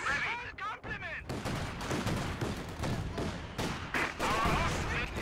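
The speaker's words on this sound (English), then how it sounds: "PTRS is firing on us!" Battle din from Company of Heroes with repeated loud PTRS anti-tank rifle shots and other gunfire cracking through a busy mix, with voices and radio chatter in the background.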